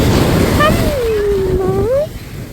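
Ocean waves wash onto a beach in the evening, a constant broad hiss of surf close by, with a voice speaking briefly over it before the noise eases slightly.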